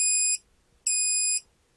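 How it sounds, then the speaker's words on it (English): A kit-built digital clock gives two short, bright electronic beeps on the full hour, each about a third of a second long, evenly spaced and clear against near silence. "Does it always beep when you go to full hour?"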